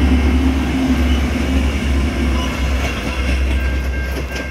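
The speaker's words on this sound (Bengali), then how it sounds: "এই যে ট্রেনটা যাচ্ছে, এই যে যাচ্ছে যাচ্ছে যাচ্ছে" A Metra commuter train passes nearby with a loud, steady rumble and rolling rail noise, the low drone sustained throughout with faint clickety-clack and no talking.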